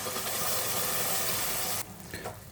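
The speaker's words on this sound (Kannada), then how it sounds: "ಮಸಾಲೆ ಸ್ವಲ್ಪ ಎಣ್ಣೆಲಿ ಫ್ರೈ ಆಗಲಿ" Ground masala paste with a pinch of garam masala powder hitting hot oil in a pan for a fresh field-bean pulao, giving a loud, dense sizzle that cuts off abruptly partway through, leaving only faint kitchen noise.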